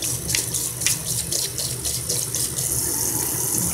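A tap runs steadily over a sink as suds are rinsed from a Japanese crease makeup brush, a close continuous stream with brief splashy changes as the brush moves under the water.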